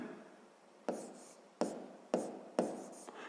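Pen on paper during a sixth-grade geometry exercise, heard as a quiet scratching of handwriting with four sharp taps or strokes at steady intervals, close and alone.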